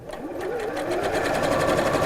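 Sewing machine stitching straight quilting lines at a lengthened stitch setting, a fast, even mechanical chatter close up that speeds into a steady rhythmic whir, with no speech.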